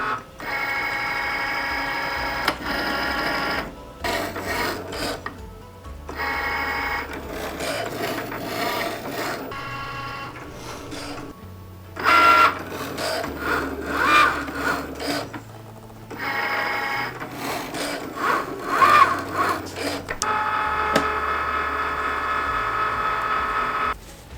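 A Cricut cutting machine slices through leather, its carriage whirring and scraping in repeated passes with short pauses between, close and steady with no talking.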